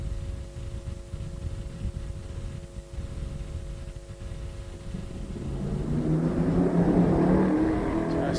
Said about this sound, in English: Just listening in the background, the cars coming out of pit lane.